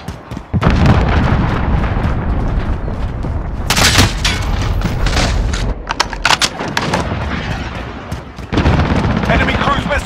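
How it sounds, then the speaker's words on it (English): A cruise missile blast in a Call of Duty video game on PS5 erupts loudly amid dense, continuous rumbling explosions and crackling gunfire, with sharp bursts partway through and a renewed roar near the end. "Enemy cruise missile incoming!"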